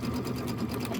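Sewing machine stitching pieced quilt fabric for a Kimberbell Hello Sunshine block, a steady continuous motor hum with fast needle chatter running throughout at close range.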